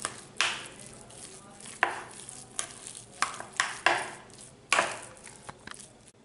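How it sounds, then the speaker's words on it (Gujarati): Potato mash stuffing for bread pakoda is stirred and mixed with oil and green chillies in a bowl, giving a series of soft, irregular scraping and thudding strokes, fairly close and quiet, with no talking. "ફરીથી બરાબર આપણે આપણા બટાકાના માવાને મિક્સ કરી લઈશું"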